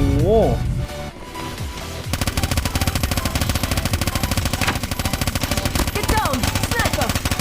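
Call of Duty Mobile gunfire: rapid machine-gun bursts after a brief pause, a dense, loud, continuous rattle of rhythmic shots with a few sweeping game effects.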